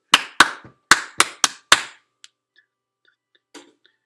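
Hand claps ring out close and crisp in a quarter, quarter, eighth, eighth, quarter rhythm, six claps in all, followed by near silence with a few faint small noises.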